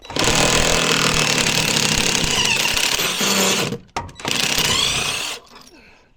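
Loud, close power tool hammering steadily as it backs out a body mount bolt on a Ford F250/F350 truck, one long sustained burst, a brief stop, then a second burst that winds down.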